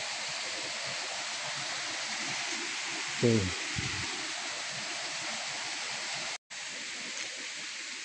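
A waterfall pours in a steady, dense roar, loud and close, filling the whole scene while someone speaks briefly over it.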